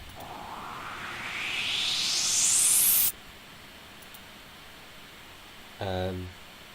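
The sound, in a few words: synthesizer oscillators playing white noise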